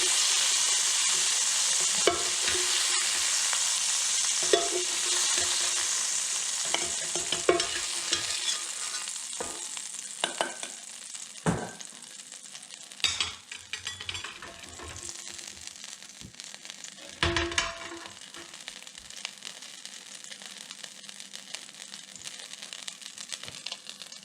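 Beef sizzling in a hot pan for a Bolivian pique a lo macho, a steady frying hiss broken by repeated scraping stirs and clatters of the utensil against the pan, close and fairly loud with no talk.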